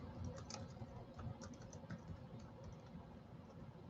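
Soft, quick typing on a computer keyboard, with light irregular key taps pattering continuously at low volume.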